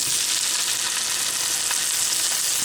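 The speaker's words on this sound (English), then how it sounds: "So I'm just gonna place our tomatoes in here" Tomatoes sizzle in a very hot pan, producing a loud, steady crackling hiss up close with no talking over it.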